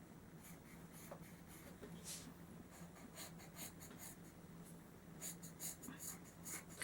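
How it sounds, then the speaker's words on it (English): A pencil presses hard against paper taped down with washi tape, denting the sheet beneath; soft, faint scratchy strokes come in short bursts over a quiet background hiss. "I'm going to take a pencil and I'm going to press quite hard."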